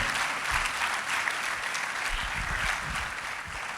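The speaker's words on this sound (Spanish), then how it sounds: "Si lo está entendiendo, denle un aplauso al Señor" A church congregation applauds during a sermon, steady, even clapping from many people, fairly quiet and continuous, with no voices standing out above it.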